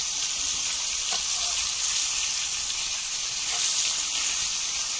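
Bangda mackerel frying on a hot tawa, giving a steady, even sizzle and hiss throughout with a couple of faint taps, close and continuous, no voices.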